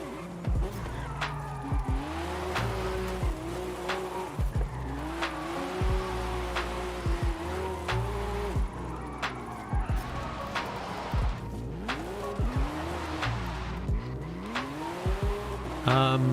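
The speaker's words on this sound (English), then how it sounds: "Drifting." A car drifts in Forza Horizon 5, its engine revving continuously while long tire squeals rise and fall again and again over about sixteen seconds of steady, fairly loud game sound.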